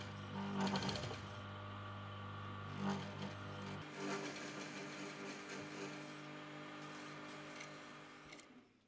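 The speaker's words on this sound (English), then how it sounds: "Now I'm just machining along where I just basted the jets to" A sewing machine stitches the jets of a bespoke suit pocket with a steady whirring hum and fast needle rhythm, close and continuous, slowing slightly toward the end.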